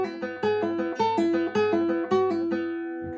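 Clean guitar notes in a steady repeating pattern, each plucked note quickly followed by a lower note sounded with a pull-off, ringing out at the end.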